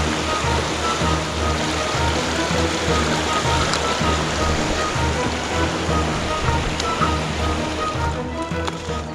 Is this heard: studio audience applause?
no